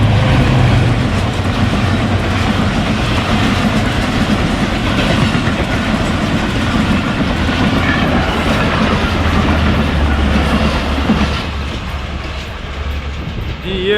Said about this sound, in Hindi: ये एक रेल आ गया।